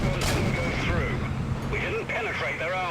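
A video-game tank cannon fires one long-range shot at a Hetzer, a sharp blast near the start followed by low rumble, with a voice talking over it.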